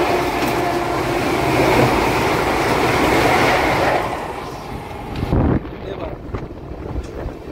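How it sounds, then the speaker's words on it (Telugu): A Vande Bharat train rushes past on the adjacent track at Kavali station, a loud broadband roar with wind buffeting that drops away abruptly into quieter rumbling after a few seconds. "ఇప్పుడే మనకి వందే భారత్ అయితే క్రాసింగ్ అయింది"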